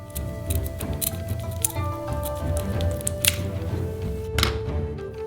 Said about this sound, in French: Avec des ciseaux, nous coupons la chitine par le haut